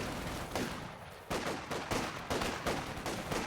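An MG 42 machine gun fires in a Company of Heroes 2 battle as repeated rapid bursts of gunfire arrive at a regular rhythm, faint and set back in the game mix with no talk.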